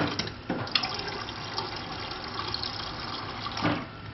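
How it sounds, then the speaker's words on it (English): Water pouring steadily from a GE refrigerator water dispenser into a container, flow restored to normal, a continuous splashing stream with a couple of brief clunks, nearby and moderately loud. "I just want to show you that the water flow is restored to normal"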